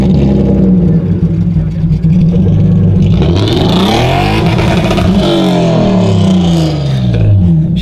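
A $500 BMW E36 drift car engine runs loudly up close, revving up and down with rising and falling pitch sweeps and a rough, raspy tone.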